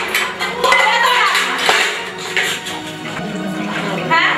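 Steel dishes, pots and pans clatter and clink continuously during household chores, dense metallic rattling close by with scattered sharp knocks throughout.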